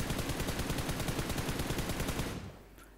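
Rapid automatic gunfire from PUBG Mobile rattles in a dense, continuous burst of evenly spaced shots, loud and close, cutting off near the end to a faint tail.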